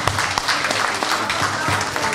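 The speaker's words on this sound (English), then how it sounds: "Let us clap to the glory of God." Wedding guests clap together during a church wedding ceremony, a loud, even wash of many hands with a few sharper claps standing out, sustained throughout.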